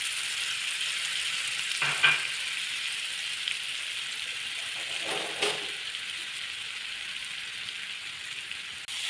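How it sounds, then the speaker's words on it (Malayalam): Ginger curry mixture for an Onam sadya sizzles and fries steadily in a pan, with a couple of brief scraping stirs standing out from the constant crackle. "ഇതെല്ലാം കൂടെ ചേർത്തൊന്ന് ഇളക്കിയിട്ട്"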